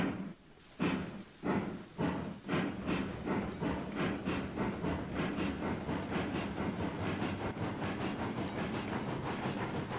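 A locomotive from Railroads Online chugs steadily along the track, its rhythmic exhaust beats rising quickly to a fast, even pulse under a constant hiss, moderately loud and without talk.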